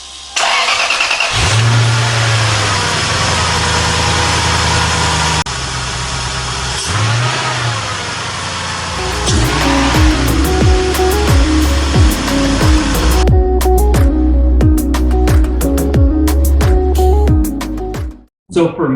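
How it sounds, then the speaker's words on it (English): A Lexus GS400 V8 fitted with a K&N intake cranks and catches, then settles into a rough idle before a series of sharp throttle blips and revs, loud and close, with a voice talking early on. "So we'll go ahead and fire it up."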